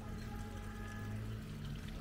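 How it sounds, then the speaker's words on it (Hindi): Spring water runs down from above beside a lane near Ganga Choti in Bagh, AJK, a steady close pouring and splashing that fills the whole stretch, with faint voices in the background. "ये है जी वो पानी नीचे ऊपर से कहीं से आ रहा है"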